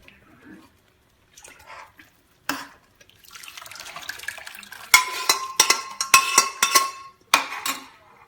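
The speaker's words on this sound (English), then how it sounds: "Then add the whole mixture of pressure cooker into the pan." Sambhar with tamarind water is poured from a pressure cooker into a pan, heard as intermittent splashing, dripping and scraping bursts that start faint and grow louder and busier toward the end.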